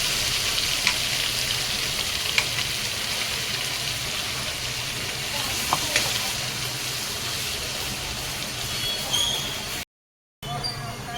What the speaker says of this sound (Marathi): हे लाल तिखट थोडंसं असं हलवून घ्यायचं जळून नाही द्यायचं जास्त